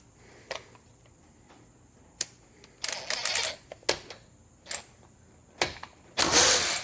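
A DeWalt DCF513 cordless ratchet loosens a bolt torqued to 90 foot-pounds, giving several short whirring and clicking bursts separated by pauses, ending in a longer, louder spin, close and with no talk.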